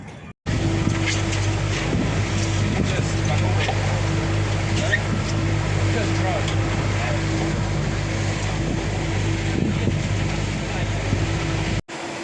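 Boat on an island-hopping trip: a continuous low engine drone with steady hum and wind buffeting across the microphone, loud and close throughout, briefly cutting out near the end.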